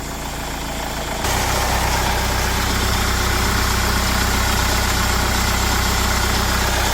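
A car engine settles into a steady idle right after starting, a constant loud hum with the onset audible at the start.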